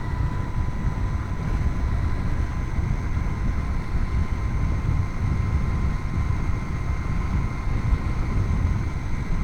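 A Mototec 60v electric bike with an upgraded, stronger drivetrain accelerates through a run, heard as a steady, loud broadband rush of wind and motor whine with faint tonal hum, constant throughout.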